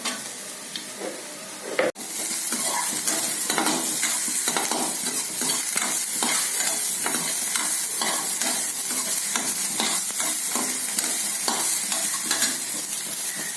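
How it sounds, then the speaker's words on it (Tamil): Loud, continuous sizzling of chopped onions frying in oil, with rhythmic stirring scrapes after a brief pause near the start. "பொடியாக நறுக்கின வெங்காயத்தை போட்டுடலாம்"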